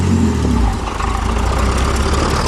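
Pontiac Fiero V6 engine running on a homemade vehicle with a bare frame, a loud, steady, close-up mechanical rumble with a slight dip and recovery in revs, no voices.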